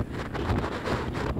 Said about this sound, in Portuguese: Nossa, a ventania aqui